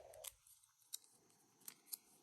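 Paper being cut with scissors during a card-making craft, a few sharp crisp snips spaced irregularly over a quiet background, close and fairly soft.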